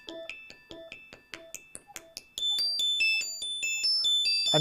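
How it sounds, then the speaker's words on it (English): Roland SH-2 Plug-Out software synth playing a bell-like, tinkly arpeggio from a single oscillator: short plucked notes in a quick steady rhythm, then brighter sustained high tones layering into a shimmering pattern, clear and alone. "bell-like arpeggiator"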